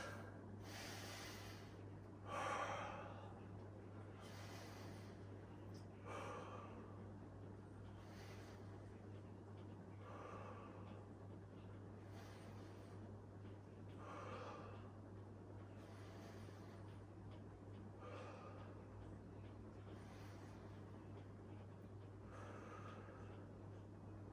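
Slow, steady breaths drawn in through the nose and released through the mouth while lying back in a butterfly position during a bodyweight strength workout, with soft airy swells repeating every few seconds over a constant low hum.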